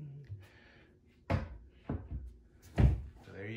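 Touch-to-open vanity cabinet doors in a guest bath pop open and bump shut in three distinct knocks and thuds, close by with quiet room noise between them.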